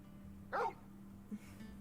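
A dog in Final Fantasy XVI gives one short, close bark followed by a faint whimpering yip over a low steady hum.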